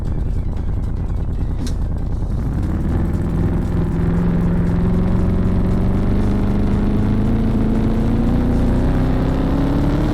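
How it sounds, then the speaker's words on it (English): V8 engine powering a big-wheeled vehicle in a desert driving video game, a loud continuous engine note that rises steadily in pitch as it accelerates after a brief lower rumble, with no talk. "time to test the big wheels with the V8."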